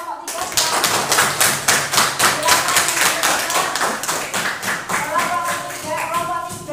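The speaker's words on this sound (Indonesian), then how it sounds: "Tepuk tangan untuk kelompok 3." Classroom applause for a winning student group, a roomful of children and a teacher clapping in brisk, rhythmic bursts, loud and close, with some voices under it.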